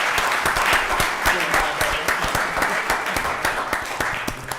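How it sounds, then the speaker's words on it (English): An audience at a county board of commissioners work session claps for a parks and recreation coach, a steady run of many hands applauding, dense and fairly near, holding evenly throughout. "Give him a round of applause."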